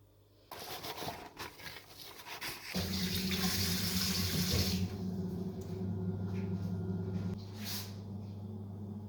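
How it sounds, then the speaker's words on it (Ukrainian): Tap water runs steadily into a kitchen sink while raisins are soaked and rinsed for Easter paska bread dough, a continuous close rushing splash with no voice over it. "Заздалегідь вимочую і промиваю ізюм."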